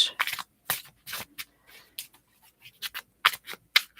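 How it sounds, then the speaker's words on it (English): Tarot cards are shuffled up close in a quiet room, a series of short crisp riffles and soft papery slides coming in irregular bursts with brief pauses between them. "while you are waiting for me to shuffle the cards"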